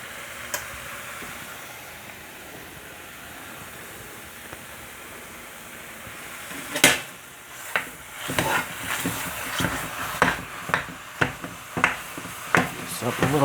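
Lasagna meats frying in a pan, a low steady hiss for the first half, then louder, with sharp stirring scrapes and clicks coming at a regular pace near the end.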